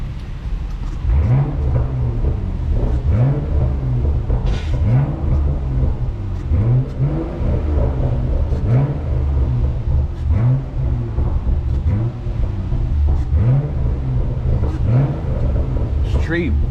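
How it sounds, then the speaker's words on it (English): Close revving from a car in comfort mode, riding along on the road, with repeated throttle blips rising and falling over a steady low engine rumble and exhaust burble, continuous and loud throughout. "give y'all a couple revs underneath the thing"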